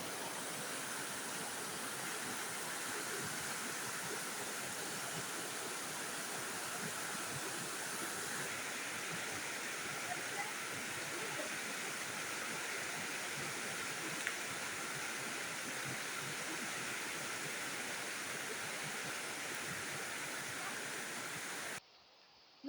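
A river rushes along with water flowing strongly, a continuous broadband wash that stays steady and moderately loud throughout without voices, ending with a brief drop near the close.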